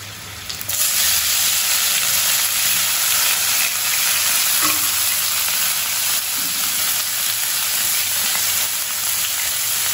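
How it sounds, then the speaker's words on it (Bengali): Leafy greens drop into a pan of already fried food, setting off a sudden loud sizzle that holds steady and close for the rest of the stretch. "আর এগুলো ফ্রাই হয়ে গেছে। এবার আমি শাকগুলো দিয়ে দেবো।"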